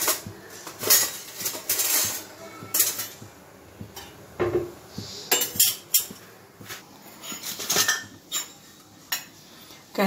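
A metal kadhai handled on the stove while stuffing for moong dal chilla is prepared: clanks and clinks of metal on metal come in uneven bursts, close and fairly loud, without talk.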